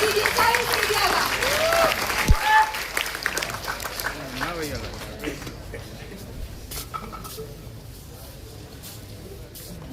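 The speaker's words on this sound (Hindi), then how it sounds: "जोरदार तालियों के साथ स्वागत कीजिए साहिल सेठिया का" Loud applause from an audience welcoming poet Sahil Sethia onto the stage at a Hindi poetry event at IIT (ISM) Dhanbad, strongest at first and then fading over several seconds.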